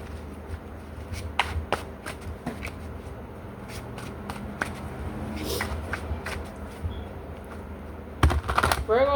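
Tarot cards are shuffled by hand in repeated soft riffling and sliding bursts, close and fairly quiet, with a brisk flurry near the end.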